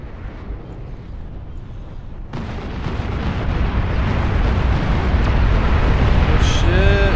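Long-range plasma cannon fire in the strategy game Beyond All Reason, a broad rumbling roar of heavy blasts that swells after two seconds and holds loud and dense to the end.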